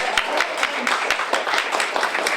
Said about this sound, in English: one more round of applause for Maureen